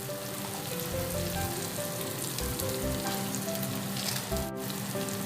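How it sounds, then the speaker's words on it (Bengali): Cauliflower and potato pieces frying in a pan alongside spices in a Bengali kitchen, a dense close sizzle with low crackling bursts and one brief sharp clatter near the end, no talk. "এদিকে মশলাটা ভাজা হচ্ছে, ওদিকে কপিটাও ভাজা হচ্ছে, কপি আলুটা"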